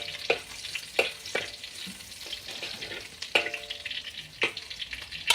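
Garlic stir-frying in hot oil, with a steady sizzle broken by sharp scraping strokes of a spatula or ladle against the pan, recurring every second or so.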